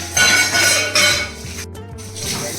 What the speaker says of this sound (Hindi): भाई साहब फाइनली पूरा बर्तन वगैरह सब साफ कर दिया हूँ